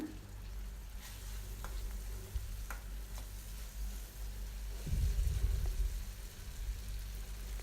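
Onion, green chili and tomato sauté in a pan with a soft, even sizzle and occasional clicks of a stirring spoon, fairly quiet over a low rumbling background hum.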